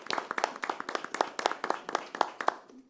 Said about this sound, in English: give you a big round of applause for all your hard work and efforts